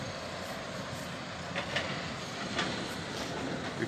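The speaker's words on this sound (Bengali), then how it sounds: "ভিক্টোরিয়া স্টেশনে ট্রেন ঢুকছে," A train pulling into Victoria station rumbles steadily, with a few faint wheel and rail clicks rising briefly near the middle and end. The noise is continuous, mid-distance and unaccompanied by speech.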